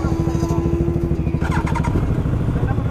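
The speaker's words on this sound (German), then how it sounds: "Schönes Motorrad." A Yamaha R1 motorcycle engine idles close by with a steady, throbbing rumble and clattering pulses, continuous throughout.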